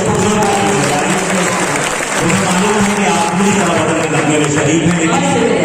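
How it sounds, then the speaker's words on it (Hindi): Audience applause at a mushaira, an Urdu poetry gathering and kavi sammelan, sustained and dense throughout, with crowd noise and voices mixed under the clapping. "एक बार लोग तालियां बजाएं, एक माहौल दें।"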